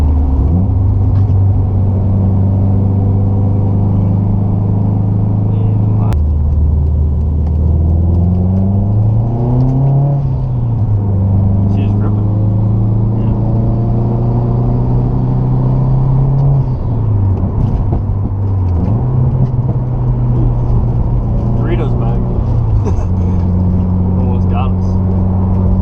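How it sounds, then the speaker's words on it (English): A Subaru WRX STI with a built engine and IAG Stage 2 tune drives along, its loud, steady exhaust drone rising and falling through several gear changes with shifts audible in between. "we're just gonna be driving around, maybe get some exhaust clips too"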